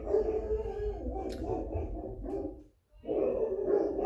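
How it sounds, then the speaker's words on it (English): Several dogs bark and yap excitedly in overlapping bursts, fairly close, pausing briefly before the noisy barking starts again. "Dogs are going crazy."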